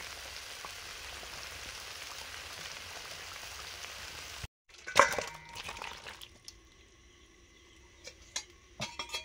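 Chicken curry sizzles and bubbles in a pan after ground roasted garam masala is added, a soft steady frying hiss that cuts off abruptly, then scattered clinks and stirring sounds in a quiet kitchen.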